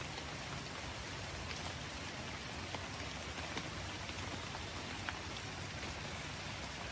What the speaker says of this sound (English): as the rain is dripping on me